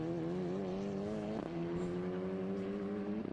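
A race car at an SVRA vintage race at Sebring holds a steady high engine drone, with a brief shift around mid-clip, loud and close with no voices.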